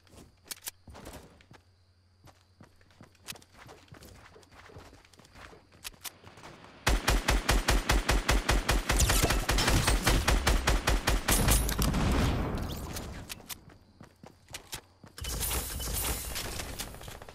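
Gunfire in the Fortnite video game on Nintendo Switch: scattered single shots give way to a long, rapid burst of automatic fire at close range, then sparse shots and another loud sustained burst near the end.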